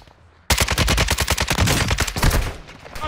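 Rapid automatic gunfire in Call of Duty: Modern Warfare II, a sudden, loud, close burst of many quick shots that keeps going for about two and a half seconds after a quiet start.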